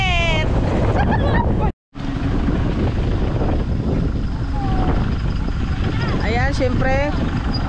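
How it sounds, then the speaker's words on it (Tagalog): Strong, cold wind buffets the microphone at a mountain viewpoint, a loud continuous roar with one brief dropout, while people talk over it. "Ang lakas ng hangin, ang lamig."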